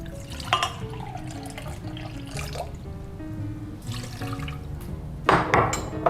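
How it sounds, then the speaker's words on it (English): Half a cup of water poured over half a cup of sugar in a pan for simple syrup, a continuous splashing pour with a few clinks of dishes and a brighter splash near the end. "And we add half cup of water to that."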